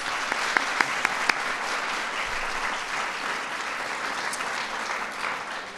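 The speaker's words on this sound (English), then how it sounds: "So let's give them a round of applause" An audience of parents and grandparents applauds young performers at a school event, a dense, steady wash of clapping with a few sharp individual claps standing out early.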